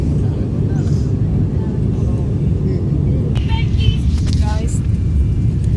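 Airplane cabin noise as the flight comes in to land, a loud steady low roar of engines and airflow with faint chimes and tones over it, while a person talks.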